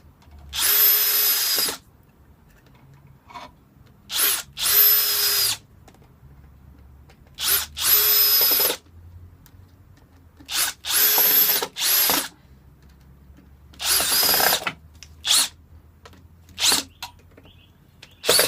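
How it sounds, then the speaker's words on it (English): A power drill drives screws through a faceplate into a wood blank for bowl turning, with about eight loud, close bursts of whirring, each a second or so long, separated by quiet pauses. "Make sure you get all the screws firmly home."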